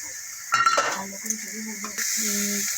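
Ingredients being stirred and sautéed down together in a pan, with a brief burst of scraping and clinking utensil contact over a steady close sizzle that carries on to the end.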